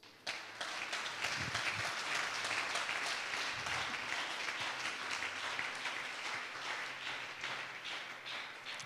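A church congregation applauds and cheers for Jesus, with steady dense clapping that begins abruptly and continues throughout, punctuated by scattered shouts.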